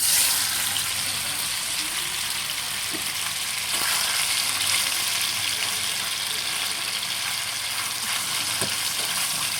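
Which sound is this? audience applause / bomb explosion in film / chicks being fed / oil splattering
oil splattering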